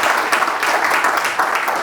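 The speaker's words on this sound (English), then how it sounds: "give her a round of applause." An audience at a fisheries talk about false albacore claps in a dense, steady wash of applause that keeps going through the whole stretch, with no one speaking over it.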